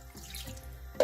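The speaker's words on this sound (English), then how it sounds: "What I'm going to do is add a bit of water because the spinach is still it's not soft yet." Water runs briefly from a tap into a pot of spinach being cooked for callaloo, a short close splash and pour in a home kitchen, ending with a sharper burst of flow.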